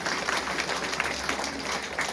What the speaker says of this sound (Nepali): जोरदार ताली आफ्नै लागि लगाउनुहोस् त।